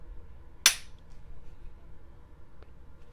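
A single sharp, loud shot from a Glock 23 handgun chambered in .40 at an indoor range rings out early, followed by a faint distant pop from another lane under the quiet range hum.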